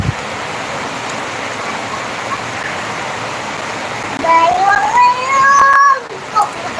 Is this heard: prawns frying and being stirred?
no